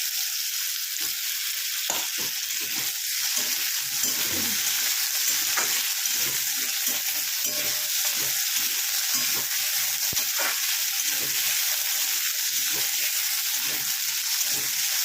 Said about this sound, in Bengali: ভালো করে ভেজে নেবো এটাকে।